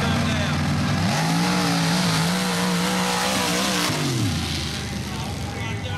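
A mud racing truck at a Mud Truck Madness national series race, modified and open class, revs up hard, holds a loud sustained roar for several seconds, then drops off, with an announcer's voice faint underneath.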